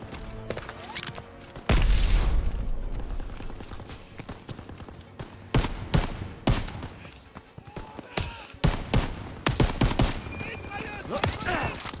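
Machine guns fire in Call of Duty WWII during the Normandy landing, with sustained bursts and scattered shots under battlefield rumble and shouted voices.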